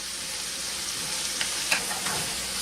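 Minced garlic and rosemary sizzle steadily in a pan of chicken with portabella mushrooms, a continuous close frying hiss with a few brief crackles and stirring scrapes, no talking.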